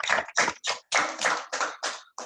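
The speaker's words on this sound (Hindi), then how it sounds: "एक बार फिर से तालियां हो जाएं।" Audience applause at an inter-school public speaking competition, heard as a series of short bursts of hand clapping, fairly close and moderately loud, with brief gaps between them and no talking.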